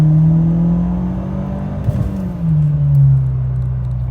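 A Mercedes C250 with a JB Tune power module, heard from inside while driving: a loud, steady engine drone that dips, then rises again as the car accelerates, with a brief clunk midway.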